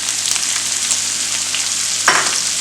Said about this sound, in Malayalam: അപ്പോൾ സവാള അതിലേക്ക് ഇട്ട് കൊടുത്തു